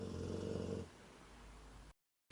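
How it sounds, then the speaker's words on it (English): A dog snoring softly in the background during a makeup tutorial, a low, faint rumbling breath that gives way to quieter room noise before a short silence. "Sorry if you hear my dog in the background snoring."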